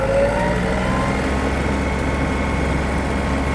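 A Yanmar RS-27 mini tractor engine roars loud and steady at full throttle, a dense close-up drone that holds constant throughout.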